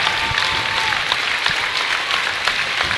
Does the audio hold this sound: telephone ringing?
no